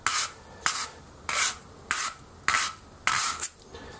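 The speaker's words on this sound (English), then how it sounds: "So they've got a bit of leverage and twist it to sand." Sandpaper rasping against the end of a parallel counterflow beer chiller pipe as it is twisted by hand, six loud close scraping strokes in a steady rhythm with brief pauses between them.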